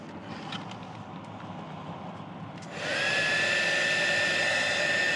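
Heat gun warming vinyl trim on a 2021+ Ford Bronco dashboard during installation, switching on partway through with a rising, steady high-pitched blowing whine that stays loud and constant, after a quieter stretch of background noise.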